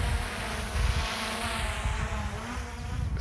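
An MJX Bugs 2C GPS drone hovers in place outdoors in the wind, its propellers giving a steady, close, insect-like buzz that stays even for the whole stretch with slight gusty swells and no talking.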